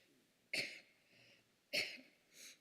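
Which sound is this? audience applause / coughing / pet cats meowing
coughing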